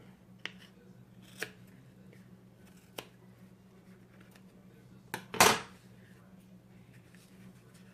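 Scissors make a few faint separate snips while trimming craft material for a model corner chair, followed by one louder, longer cutting crunch, in a quiet room with a low background hum.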